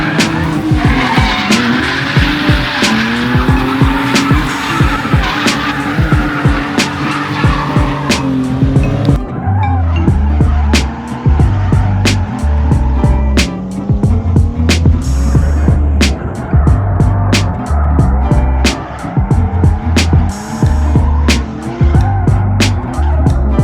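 A car drifting on a track at a European drifting event, with loud, repeated tire squeals and skids over a revving, bouncing engine, close by and continuous.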